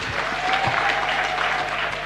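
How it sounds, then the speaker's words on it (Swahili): An audience at a public health insurance event claps steadily for a hospital's staff, a dense sustained round of applause from many hands, loud and close for the whole stretch. "Tuwapigie makofi kwa mara nyingine."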